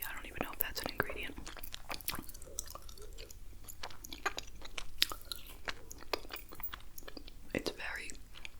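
Someone chews chocolate caramel British candy close to the microphone, with sticky, wet squishes and occasional crisp bites in an uneven rhythm, while whispering can be heard between mouthfuls.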